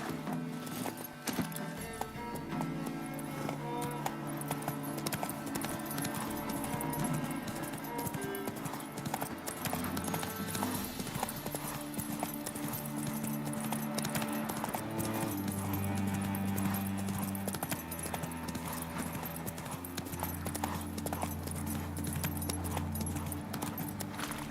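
Hooves of Roach, the horse in The Witcher 3: Wild Hunt, clip-clop in a continuous gallop, steady and moderately loud under a bed of game music with deep sustained tones.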